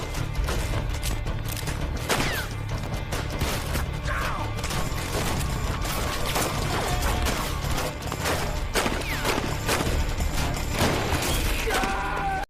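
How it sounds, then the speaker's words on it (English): Gunfire erupts in a film shootout between bootleggers and rival men, a dense, loud, sustained clatter of shots, crashes and mechanical clanks with no pause throughout. "A violent shootout erupts between the bootleggers and Rakes' men."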